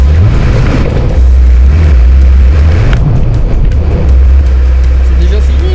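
Close, loud low rumble of a 600-horsepower Ferrari engine while driving in Maranello, steady with swells in revs throughout, with voices talking over it.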